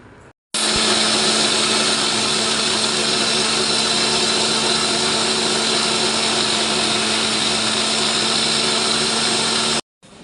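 A mixer grinder blends a cucumber and mint drink with cold water added, a loud steady motor whine with a constant hum that starts abruptly, runs unbroken for about nine seconds, then cuts off.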